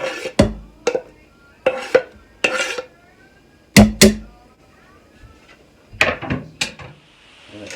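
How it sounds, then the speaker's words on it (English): A wooden spoon is taken up in a kitchen while onions cook, bringing sharp clatters and knocks of utensils and cookware in irregular bursts, close by, with quiet gaps between. "I have to grab a wooden spoon here because you want to make sure the oil is covering the onions too."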